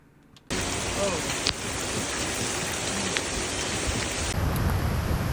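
Pouring rain lands on a house and its landscape bed, starting abruptly as a loud, dense, continuous hiss close by, with a few faint knocks inside the roar.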